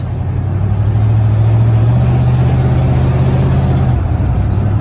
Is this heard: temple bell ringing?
no